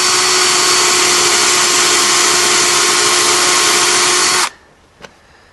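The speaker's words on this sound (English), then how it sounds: "So what we're trying to do is drill the center of this out." A power drill bores out the center of a rivet on a Casita trailer light fixture, a loud continuous high whine that cuts off abruptly, followed by a faint single click.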